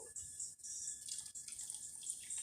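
Beer, Michelob or Coors Light, is poured into hushpuppy batter, a thin hissing trickle with light dripping that runs steadily, close and fairly quiet, with no talk.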